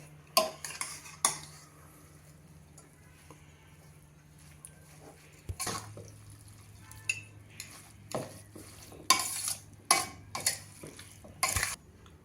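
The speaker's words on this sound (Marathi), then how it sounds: "आता सगळं छान मिक्स करून घेऊया" Quiet, intermittent scraping and clinking of a spoon stirring a carrot halwa mixture in a metal pressure cooker, with short pauses between strokes.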